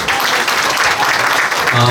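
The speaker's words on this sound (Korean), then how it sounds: "박수 한번 부탁드리겠습니다" Audience applause at a book launch, a brisk burst of clapping that holds throughout, with a voice starting to cut in near the end.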